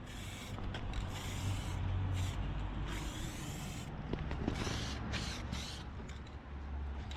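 Touch-up paint color-matched to a car's paint code sprayed onto the body panel, a steady close hiss in several long bursts with brief gaps between passes.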